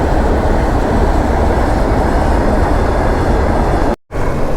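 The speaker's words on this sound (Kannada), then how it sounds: "ಯಾವುದೋ ಗೂಡ್ಸು." A goods train rolls past a railway crossing on a ride near the Visakhapatnam highway in Andhra Pradesh, a loud steady rumble filling the whole stretch with a brief break near the end.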